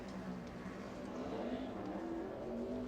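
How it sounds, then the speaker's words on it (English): A NASCAR race car on a qualifying run at Kentucky drones steadily at a distance, its engine note holding and slightly rising, continuous throughout. "Next on track, the 81 of Scott Riggs"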